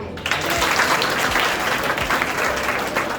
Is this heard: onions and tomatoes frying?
no